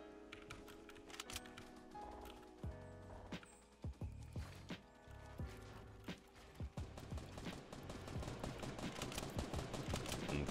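Rapid bursts of gunfire in Fortnite, a video game, crackle repeatedly over steady game music, with sharp shot transients clustering toward the end and no talking.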